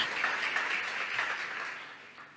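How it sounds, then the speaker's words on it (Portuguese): A short burst of church congregation applause, many hands clapping at moderate volume, fading slightly toward the end. "Você pode aplaudir o Senhor?"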